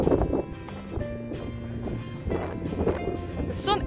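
Gusty wind blowing across an open tulip field, buffeting the microphone in loud rumbling surges with a faint tonal hum underneath.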